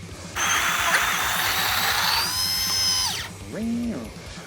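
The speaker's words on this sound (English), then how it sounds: "These are the Wilfer precision grinders." A Wilfer precision coffee grinder whirs loudly and close for about three seconds, its high motor whine winding down as it stops. A voice speaks just afterward.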